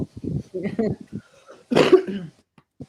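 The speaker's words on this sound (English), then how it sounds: "Oh, excuse me for coughing." A person speaks briefly, then gives one harsh, close cough before falling quiet.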